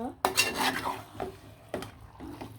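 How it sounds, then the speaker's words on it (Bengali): Beef being stirred with spices in a metal pot, the spoon scraping and clinking against the sides in a few distinct strokes, close and fairly quiet, with a light sizzle underneath. "খুব সুন্দরভাবে মশলার সাথে মিশিয়ে নেবেন মাংস"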